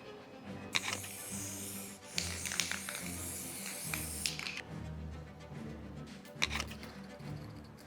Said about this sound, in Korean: 분사 시 옆에 튀지 않게 타올로 가려서 코팅을 했고 코팅 전 물을 살짝 뿌려 습식 작업으로 완료했습니다.